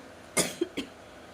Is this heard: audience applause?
no